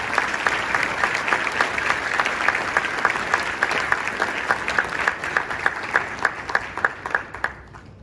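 A large dinner audience at a presidential rank awards recognition event claps for award winners, steady dense applause with some emphatic individual claps standing out, continuing throughout before tapering slightly at the end.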